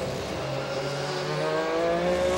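A GT-class race car at Mid-Ohio that has had a notchy gearbox drones past with a sustained engine note that rises and shifts in pitch as it changes gear, loud and steady with no speech.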